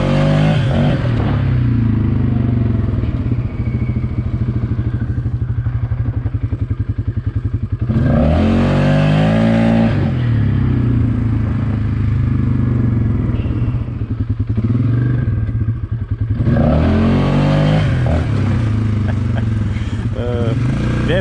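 A 450 motorcycle fitted with an aftermarket clutch kit rumbles steadily up close, with two sharp rising revs as it accelerates hard, the second near the end.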